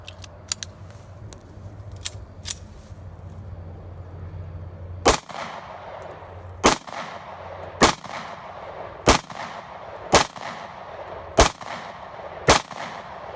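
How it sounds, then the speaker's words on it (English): .45 ACP rounds are test-fired outdoors: seven sharp, loud gunshots ring out at a steady pace about a second apart, preceded by a few faint clicks of handling. "up next we're going to try out the 45 ACP"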